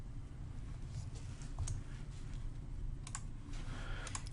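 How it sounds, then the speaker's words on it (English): Keys tapped on a computer keyboard in short quiet bursts of clicks over a low room hum, close up, with no voice. "I'll just type offset."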